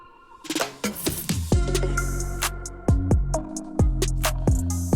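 A free music track for visual novels: bright, bouncy electronic music with punchy percussive hits, a steady bass pulse and repeated rhythmic accents, moderately loud and without talk.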